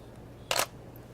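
A camera shutter fires once with a Canon on-camera flash set to straight-up bounce with a small bounce card, a single crisp close click in a quiet room.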